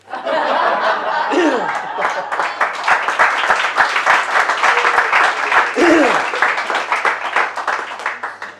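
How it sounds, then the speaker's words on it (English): An audience at a live comedy and storytelling show breaks into loud, sustained applause with cheers and scattered laughter, close and dense throughout, with a few shouted voices rising above the clapping. "We get a big cheer for that one."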